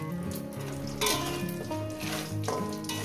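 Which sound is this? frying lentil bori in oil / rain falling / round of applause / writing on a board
frying lentil bori in oil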